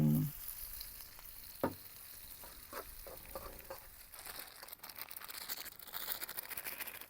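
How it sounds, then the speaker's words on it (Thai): Thai curry paste and shrimp paste sizzle in hot oil in a pan at an outdoor cooking spot by a reservoir, a steady close crackle broken by occasional scraping strokes of stirring. "ผัดเครื่องแกงให้สุก"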